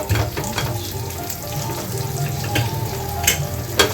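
Onions sauté in a pan for ridge gourd kootu, a steady close sizzle with light crackles and occasional stirring taps, no voices.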